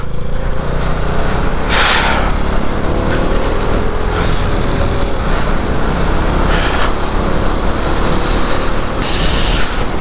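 Motorbike engine droning steadily while riding a mountain road in Ladakh, a continuous loud broadband rumble with wind noise and brief hissy bursts, no talking.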